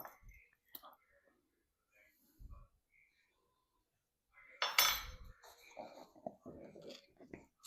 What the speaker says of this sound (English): we're going to take our fork and you're going to mix it around to incorporate that butter